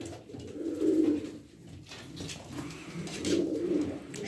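Pigeons cooing in a loft, soft rolling low coos rising and falling in overlapping waves at close range, with light rustling and no speech; Turkish breeds such as Çorum çıplak and Arab pigeons.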